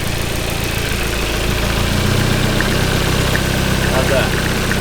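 Rear-wheel-drive Honda Civic with a newly fitted engine idling right after its first start, a steady, loud, slightly uneven rumble that holds throughout, with voices talking faintly over it.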